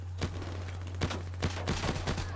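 Bursts of heavy machine gun fire in a Call of Duty multiplayer match, several short volleys of rapid shots over a steady low in-game hum, loud and close.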